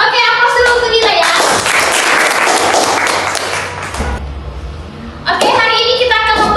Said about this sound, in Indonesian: aplaus dulu untuk Dila ya